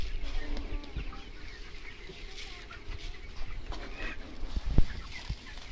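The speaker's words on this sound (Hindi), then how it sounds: "इधर 1500 मुर्गी है और बगल वाले घर में भी दिया जाएगा" Broiler chickens in a poultry shed holding about 1500 birds cluck and call continuously, a dense flock chorus with a few sharper, louder calls standing out near the end.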